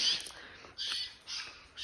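Crows caw in a garden at a distance, three or four harsh calls spaced evenly apart, faint against a quiet background.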